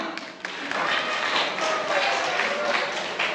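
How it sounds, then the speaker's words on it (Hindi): An audience at a poetry performance gives a dense, sustained round of applause in honour of teachers, with voices blending into the clapping. "उनके लिए एक बार जोरदार तालियां।"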